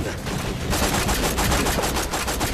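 Gunshots in Borderlands 2: rapid machine-gun style bursts, loud and close, with regularly spaced shots firing in a tight rhythm after a brief opening shot.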